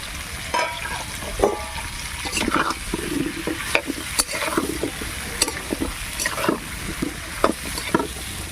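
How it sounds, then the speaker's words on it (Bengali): Potatoes, beans and gourd sizzle in a hot pan, broken by sharp clatters and scrapes of a spoon stirring the vegetables. "আলুটা কিছুটা ভাজা হয়ে গেছে, এবার তার মধ্যে আমি শিম আর লাউ দিয়ে দিচ্ছি"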